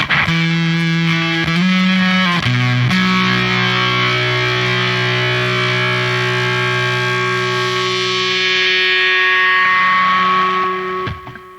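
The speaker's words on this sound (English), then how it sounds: "What's with the bzz at the end of the notes?" Sustained synth notes carry a gritty, distorted buzz that lingers and grows raspier as each note tails off; loud, with no talking.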